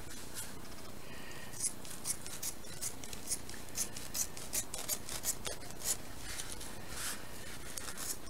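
Cord for a Turk's head knot being cut, with a series of short, crisp snips spread through a quiet, close-up stretch and no talking.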